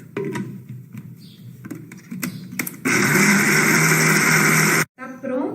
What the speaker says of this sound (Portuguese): Eu deixei batendo no liquidificador por 2 minutos